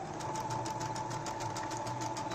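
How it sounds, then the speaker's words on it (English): Sewing machine running a zigzag stitch over a cord to gather fabric, a steady rapid mechanical chatter of needle strokes, close and continuous throughout with no talk. "Increase the length and also the width of the zigzag stitch such that it crosses the cord. Then you begin to sew."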